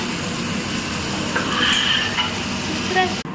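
Biryani with rice being stirred in a pot, a continuous sizzle with scraping spoon strokes under a faint voice, ending in a brief knock.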